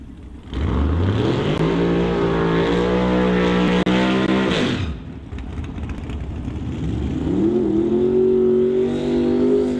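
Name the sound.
Outlaw 275 drag racing cars firing up and launching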